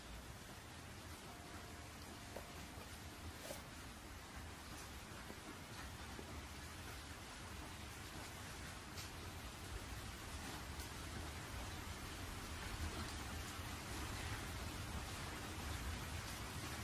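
Steady, even rain hiss fills the scene from start to finish, a soft, dense wash of falling drops with no other sounds standing out.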